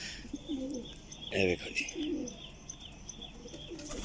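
A golden pigeon coos in a few soft, low bursts while someone talks nearby, with faint chirps and rustling around it.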